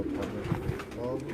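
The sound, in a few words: pigeon cooing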